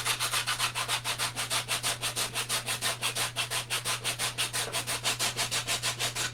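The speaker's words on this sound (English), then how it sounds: "I'm just sanding this" Rhythmic back-and-forth scraping of hand sanding on a wooden shelf frame, quick regular strokes repeated steadily, close up, with a low constant hum underneath.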